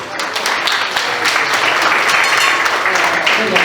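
Wedding guests at the reception of Rosalio and Rosa applaud the godmother, loud dense clapping from a close crowd that runs steadily throughout, with a few scattered voices.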